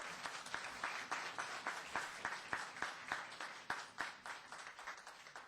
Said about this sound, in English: I do have to ask you to control your applause